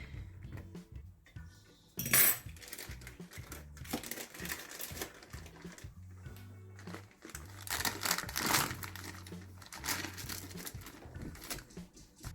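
Roast pumpkin, still warm, being mixed into a colorful chickpea salad in a bowl, with soft crinkling, scraping and light clinks of a utensil against the dish, quiet and close, with a sharper burst near the start.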